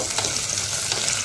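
Sweet potato slices and jaggery sizzle steadily in a pan over medium heat, with a close, continuous frying hiss and soft scraping as they are stirred.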